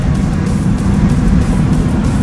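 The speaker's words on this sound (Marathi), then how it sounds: "बघू शकता कशी चालली गाडी" A car cruising on the Samruddhi highway in Maharashtra, heard as a steady low road and engine rumble from inside, continuous and fairly loud with no talk.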